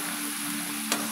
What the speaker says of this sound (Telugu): ఆయిల్లో బాగా ఫ్రై అవ్వాలి